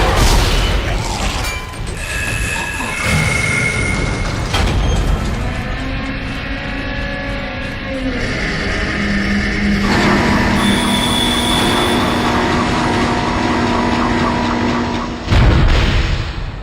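A tram rumbles along its rails in the sci-fi game Dead Space, with loud mechanical clanks, booming thuds and a rolling metallic drone over the whole stretch, plus a sharp hit near the end.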